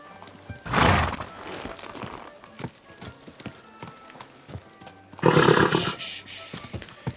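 A horse in the medieval video game Kingdom Come Deliverance 2 gives two loud whinnying neighs, one early and one late, with soft clip-clop hoofbeats and faint background rustle between them.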